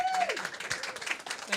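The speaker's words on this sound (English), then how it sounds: "So we want to give him a big round of applause" An audience at a Friday night concert gives a folk performer a short round of applause, scattered clapping from a modest crowd with a voice briefly heard at the start.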